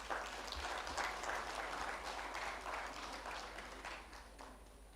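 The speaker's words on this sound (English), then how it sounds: "Can we please have a round of applause for them?" Audience applause at a leadership panel event during a signing ceremony, a steady, moderately distant crowd clapping that holds for several seconds before tapering slightly.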